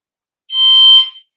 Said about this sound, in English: Oh, hang on, that's a fire alarm, I think.